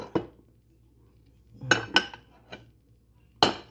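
Dishes being washed by hand in a kitchen: several sharp clatters and clinks of pots, cutlery and glass at irregular intervals, with quiet gaps between them and no voices.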